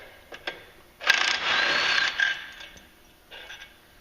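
A ratcheting tool loosens a 15mm bolt on the clutch of a 2016 Polaris RZR Turbo, a close whirring, clicking burst lasting about a second with fainter ratchet clicks before and after.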